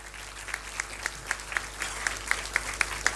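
Audience applause at the L N Birla Memorial Debate: steady, moderately faint clapping from a hall, with sharper individual claps standing out at a fairly regular pace throughout.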